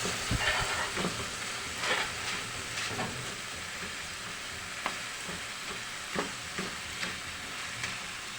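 Tomatoes mashed and sautéed in a pan, a steady sizzle of frying with scattered scraping and tapping strokes of a utensil against the pan, fairly close and without talk.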